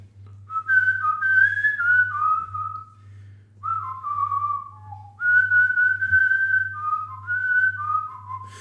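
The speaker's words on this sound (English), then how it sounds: "We'll whistle a tune to you." A person whistles a melodic tune in two long phrases with a brief pause between them, close and clear over a steady low hum.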